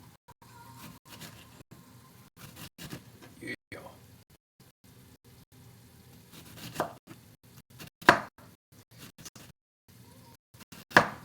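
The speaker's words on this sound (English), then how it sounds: "I chop it like rather finely" A knife chops food finely on a chopping board while preparing monjayaki at home, giving irregular knocking taps with a couple of louder strikes near the end, alone and fairly close.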